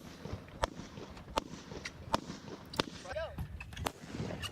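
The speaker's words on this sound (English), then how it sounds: "I keep on hearing 7 gunshots over and over again" Several sharp, distant gunshots ring out outside at irregular intervals over a low background rumble, with faint voices and movement nearby.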